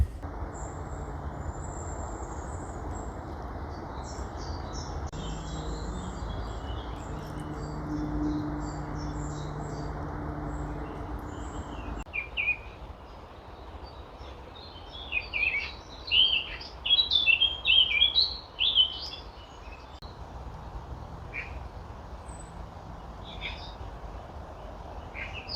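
Birds sing outdoors near Quimperlé: faint tweets and chirps at first over a low background hum, then a livelier burst of close, bright chirping, followed by scattered calls again.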